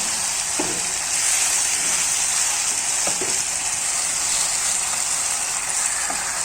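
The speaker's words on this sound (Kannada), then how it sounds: "ಪುದೀನ ಮತ್ತು ಕೊತ್ತಂಬರಿ ಸೊಪ್ಪು ಇವಾಗನೇ ಹಾಕೊಳ್ಳೋಣ. ಸ್ವಲ್ಪ ಎಣ್ಣೆಲಿ ಫ್ರೈ ಆಗಲಿ" Mint and coriander leaves frying in a little oil for a mushroom gravy, giving a steady, even sizzle close by with a few soft stirring knocks.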